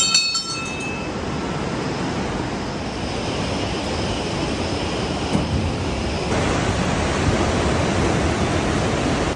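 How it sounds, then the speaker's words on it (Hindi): The Alaknanda river at Rudraprayag near Koteshwar Mahadev after rain, a broad, steady roar of rushing water that fills the whole scene without a break. "सबसे पहले तो आप यहाँ पे आवाज़ देखो अलकनंदा नदी की, क्या रौद्र रूप ले रखा है अभी"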